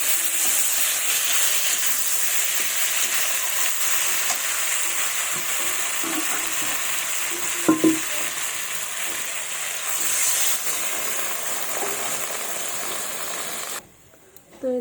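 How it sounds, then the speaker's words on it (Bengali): Water pours into a pan of frying, spiced small bata fish and broccoli curry, giving a steady, fairly loud sizzle and hiss with a brief surge partway through, then a quieter tail. "এবার আমি পরিমাণ মতো জল দেবো।"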